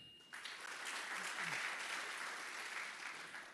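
Conference audience clapping at the BlueInvest Africa opening ceremony, a dense, steady burst of applause from a large crowd that starts abruptly and carries on throughout, with a brief voice early on.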